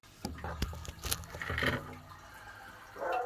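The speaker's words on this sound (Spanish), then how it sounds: "La guacalada de agua de un típico salvadoreño" A bowl of water is poured over a person in a splashing rush, followed by trickling and dripping, with a short exhale and murmur at the end.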